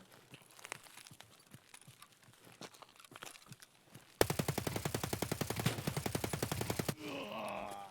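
AK-101/102 rifle firing in Escape from Tarkov: scattered distant shots and crackle, then a loud, sustained close automatic burst of rapid, evenly spaced rounds lasting nearly three seconds, followed by a brief mechanical rattle.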